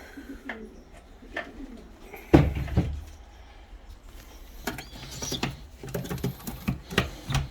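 Pigeons make soft, low cooing calls between scattered knocks and rustles, with a louder thump partway through, all close by and moderately quiet.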